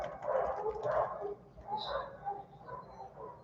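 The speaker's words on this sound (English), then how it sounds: "Dogs in the neighborhood are quite vocal at the moment" Neighborhood dogs barking in the distance, a few faint muffled barks and yips spread irregularly over a quiet indoor background, with a voice partly audible.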